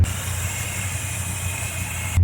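A 1986 Chevrolet Scottsdale C10 pickup engine idles steadily up close, a low rumble with a constant hiss layered over it, no one speaking.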